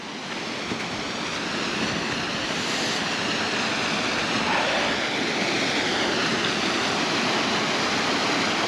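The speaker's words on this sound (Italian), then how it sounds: "ed ecco il fiume Alento" Steady, loud rushing water of the Alento river fills the whole clip, a continuous broadband roar like a fast river or cascade close by, with no voices.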